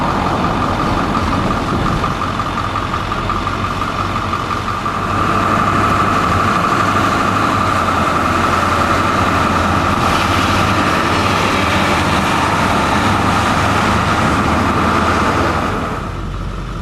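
A truck engine idles steadily and close by while cows are loaded, its low rumble holding constant and growing slightly louder in the middle before fading near the end.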